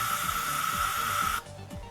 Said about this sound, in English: put the next, which is just a little bit of spray polish